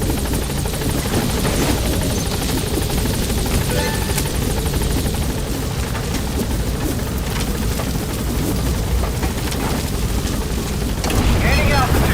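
Military helicopter rotor in Metal Gear Solid V lifting off from a landing zone, a loud continuous chopping roar with heavy engine rumble that holds steady throughout, with no talk over it.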